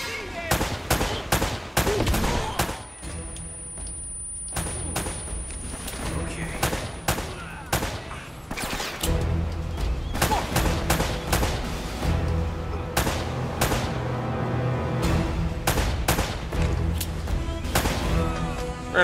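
Bursts of gunfire ring out in Uncharted: Drake's Fortune, repeated sharp shots in fast volleys across the whole stretch, loud and close over the game's background, while someone talks over the action.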